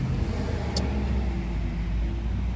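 Cars pass steadily on a nearby road, a continuous loud engine and tire rumble with no break across the short stretch.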